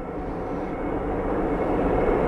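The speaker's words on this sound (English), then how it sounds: "Here comes a train. Can you hear it?" A deep, steady rumble of a passing train builds slightly in loudness, broad and roaring with no horn.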